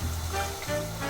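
Piped dough strands frying in hot oil, a continuous close sizzle and bubbling with no voices.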